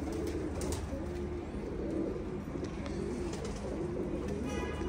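Tiyadi pigeons coo softly and continuously at close range, their low throaty calls repeating over a faint, steady background hum.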